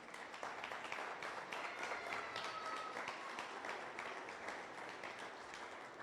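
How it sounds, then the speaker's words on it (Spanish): Church congregation applauding together, a dense, steady wash of many hands clapping that holds at an even level throughout, without voices rising above it. "Dale un fuerte aplauso a Dios."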